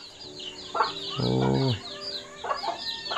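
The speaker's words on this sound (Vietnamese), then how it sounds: "Sao lại cho gà ăn ở trong nhà thế này?" Chickens being fed inside a house cluck and squawk close by, one long drawn-out call in the middle, with a brief exclamation from a person.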